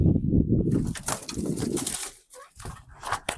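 A pigeon released from a coop in Turkey takes off, with close, loud bursts of wing flapping and rustling mixed with low cooing from other pigeons nearby.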